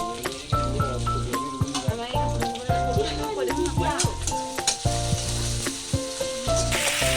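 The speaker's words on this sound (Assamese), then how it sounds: "বইল গাহৰিখিনি কমটি তেল দি ভাজি লৈছোঁ" Boiled pork frying in a small amount of oil in a home kitchen, a steady loud sizzle with repeated bursts and clinks of stirring throughout, while music plays underneath.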